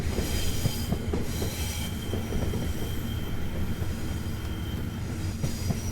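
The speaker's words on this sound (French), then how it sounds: "Ils font vraiment des jolis bruits, hein, ces wagons là." Loaded freight wagons roll steadily behind a BB26000 electric locomotive in Train Simulator, approaching Corbeil-Essonnes, with continuous loud rumble, rhythmic wheel clicks and occasional squealing of wheels.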